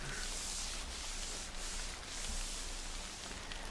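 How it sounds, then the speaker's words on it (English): Hands rubbing over a head in an ASMR roleplay, a close, soft, continuous brushing rustle with slight swells, intimate and steady without talking. "Let me just keep on rubbing your head."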